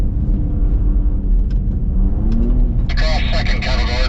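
A Ford Raptor truck drifting off-road, its engine rumbling and revving under cabin noise with a rising tone, then bursts of gravel and dirt spray toward the end; a person talks over it.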